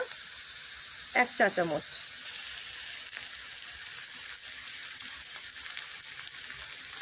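Onions already fried in a pan, now with garlic paste added, sizzle steadily as a Bengali fish curry with cauliflower is cooked, with a brief burst of speech near the start over the constant hiss.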